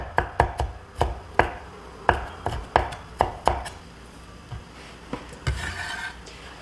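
A knife chops vegetables on a cutting board while preparing kkanpunggi. About a dozen sharp, uneven chops come close and loud, then a few softer cuts follow, with no speech.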